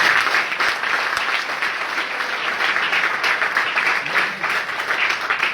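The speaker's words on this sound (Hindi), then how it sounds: "ताली नहीं बजाओगे?" Audience applause at an IMC Business training program, a dense, steady wash of many hands clapping at once, loud and continuous for several seconds with no talk over it.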